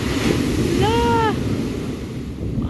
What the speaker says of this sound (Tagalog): ang lalaki na ng mga alon grabe